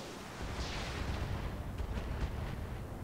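Mech weapons fire in the video game RogueTech as a steady, loud, booming roar with several sharper blasts on top, lasting nearly the whole stretch.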